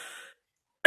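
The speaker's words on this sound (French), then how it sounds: "Moi, je peux plus parler tellement je tousse." A single abrupt, loud cough bursts out near the end of a short stretch that is otherwise nearly silent.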